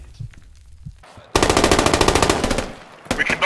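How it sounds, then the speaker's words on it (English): Gunfire in the video game Squad: a loud, sustained automatic burst of rapid shots erupts close by after a quieter stretch, then another burst breaks out at the end. "The front floor's getting shot to pieces."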